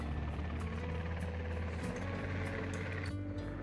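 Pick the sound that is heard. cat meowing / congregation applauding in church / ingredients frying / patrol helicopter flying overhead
patrol helicopter flying overhead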